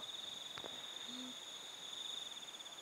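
A single soft, low hooting call sounds once in a quiet night filled with a steady, high-pitched insect drone.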